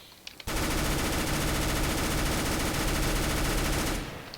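A P90 submachine gun in Counter-Strike: Global Offensive fires one loud, unbroken burst of rapid shots. It lasts about three and a half seconds and stops abruptly, with nobody speaking over it.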